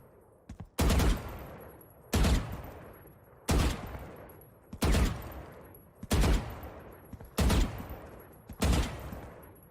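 Gunfire in the tactical shooter Valorant comes in seven evenly spaced short bursts of rapid shots, loud and close, each followed by a brief decaying tail.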